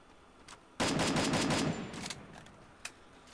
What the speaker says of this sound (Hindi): मैं तो सिर्फ ऐसे ही फायरिंग कर रहा था